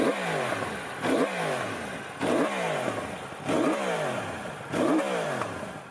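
A 2020 Yamaha R1 motorcycle engine and exhaust revs hard and drops back about five times in a steady rhythm, loud and close, with a raspy mechanical edge and no voices.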